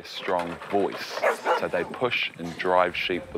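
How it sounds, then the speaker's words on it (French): Huntaway sheepdog named Leo, a New Zealand breed kept for its carrying voice, giving a string of loud, close barks and yips with a person talking over them throughout. "Ils repoussent et orientent le troupeau grâce à un aboiement puissant"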